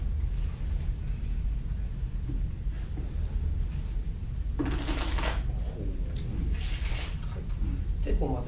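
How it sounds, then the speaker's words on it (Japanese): A deck of playing cards being shuffled during a magic trick at a magic club meeting, with repeated riffling bursts and rapid clattering over a steady low room hum. "ちょっとシャッフルするんです"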